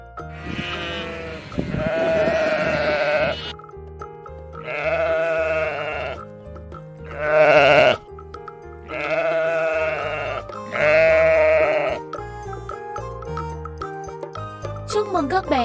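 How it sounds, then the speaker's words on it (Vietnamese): Sheep bleating in a series of loud, drawn-out calls, about six separate bleats with short pauses between, alone with a faint tinkling at the end. "Con cừu tiếng Anh đọc là sheep."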